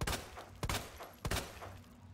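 Three sharp, booming gunshots in the video game Resident Evil 2 Remake ring out at roughly even intervals, each trailing off in a brief echo, loud and close.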